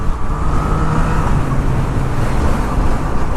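A Yamaha FZ-09 850 cc street motorcycle on the move produces a steady, loud roar of engine and rushing wind that stays constant throughout, with no voices.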